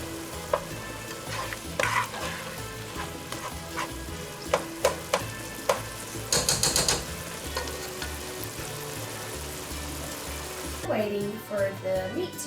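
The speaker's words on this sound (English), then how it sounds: "Waiting for the meat to brown and cook" Ground meat browns in a pan with a steady, close sizzle while a spoon scrapes and taps at irregular intervals, with a quick flurry of strokes midway and a voice toward the end.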